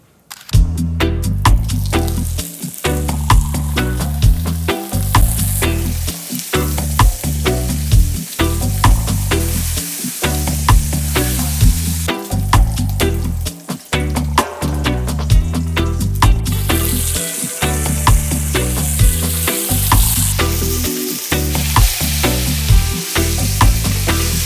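Smoked bacon sizzles steadily on a drum pan BBQ, a dense continuous crackle that runs beneath loud, rhythmic music with a pulsing bass beat.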